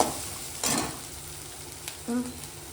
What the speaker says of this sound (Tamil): பார்த்தீங்கன்னா வெங்காயம் ஓரளவுக்கு வதங்கிச்சு. இன்னும் கொஞ்சம் நேரம் வதங்கிட்டோம்.